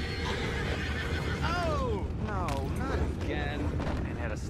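Horses in Red Dead Redemption 2 neigh and whinny in several rising and falling cries over a busy game soundscape with hoof clip-clops and low rumbling, fairly close and clear.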